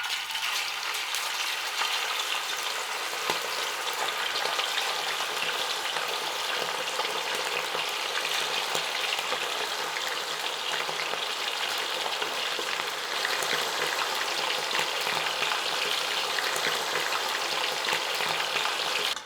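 Chicken pieces fry in hot sunflower oil with a dense, steady, loud sizzle and crackle that holds evenly throughout, with occasional faint stirring clicks and no voices.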